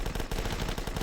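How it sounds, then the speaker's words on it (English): Rapid gunfire from a hunting rifle in The Last Stand, a zombie flash game: a dense, loud run of repeated shots packed closely together over about a second, with no voice. "Hunting rifle."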